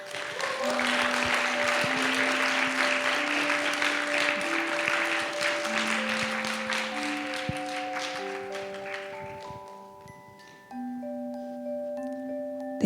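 A church congregation at a Sunday youth service claps to welcome an engaged couple brought to the front, steady applause fading out toward the end while sustained organ or keyboard chords play beneath.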